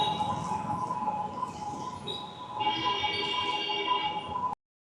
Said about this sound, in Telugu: పైన మెట్రో సౌండ్,